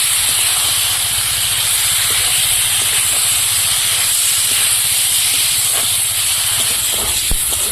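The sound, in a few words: potatoes frying in pan with ginger paste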